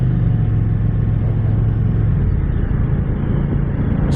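Steady low engine rumble and wind on an Indian Pursuit Dark Horse 122 motorcycle moving slowly through heavy road traffic, close and continuous with no talk.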